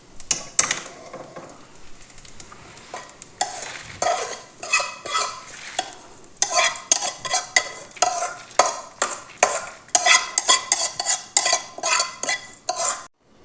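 Fried ingredients are scooped from a pan onto a plate in a rapid series of close metallic scrapes and clinks, with faint frying underneath.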